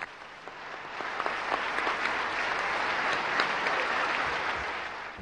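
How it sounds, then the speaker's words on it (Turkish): Sustained applause from a large audience after Fidel Castro's noon speech at the Habitat conference, a dense wash of clapping that swells and holds, heard from within the hall with faint background voices. "Öğleki konuşmasının ardından dakikalarca alkışlandı"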